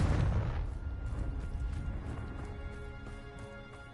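A Confringo explosion spell in Hogwarts Legacy, one booming burst at the start that fades into a long, soft, ringing decay.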